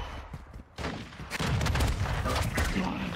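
Shotgun blasts ring out in a competitive multiplayer video game, a quieter lull breaking into a dense run of loud, overlapping gunfire that keeps going to the end.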